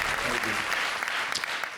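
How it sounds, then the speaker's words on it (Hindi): Enthusiastic applause from a comedy show audience, dense clapping sustained throughout, with a voice briefly audible underneath. "जोरदार तालियां"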